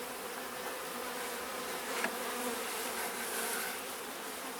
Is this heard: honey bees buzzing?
yes